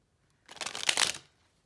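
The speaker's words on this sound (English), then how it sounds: "I actually think I'll shuffle again." A brief burst of papery riffling as tarot cards are shuffled, lasting under a second with quiet before and after.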